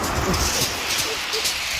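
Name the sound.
large wave crashing on Chesil Beach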